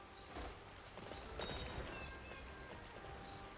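Horse hooves clip-clopping in Dynasty Warriors Origins, a steady run of quiet, fairly faint footfalls with a louder cluster of hits midway, over soft background game sound.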